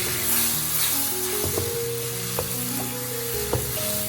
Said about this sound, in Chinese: 切好的冬瓜也倒下去，然后翻炒均匀